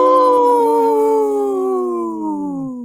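Wolves howl in a long, loud chorus of several overlapping voices, each sustained tone sliding slowly downward and fading slightly toward the end, with no talking.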